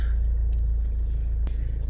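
A car engine idles with a low, steady rumble from inside the vehicle as it sets off, with a couple of faint clicks over the drone.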